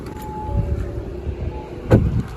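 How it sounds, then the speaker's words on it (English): A car's radiator cooling fan runs with the air conditioning on during a hot day, giving a steady low whooshing hum heard close by outdoors, with one brief louder rumble near the end. "it's a really hot day, so the fan's going with the AC on, so that's normal for the fan to be making that noise"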